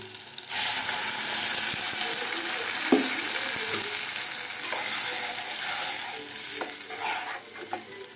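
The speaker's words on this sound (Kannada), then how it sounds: "ಒಗ್ಗರಣೆ ಕೊಟ್ಟಿನಿ ರೀ ಈಗ ಬಿಡಿ" Spice tempering crackles and sizzles in hot oil right after the spices drop into the pan, a loud steady fry with occasional stirring clinks.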